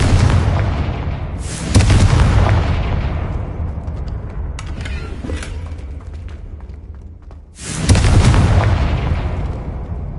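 Confringo fire spell explosions in the video game Hogwarts Legacy: two loud booming blasts a few seconds apart, each with a sharp onset and a long rumbling decay over continuous low ambient sound.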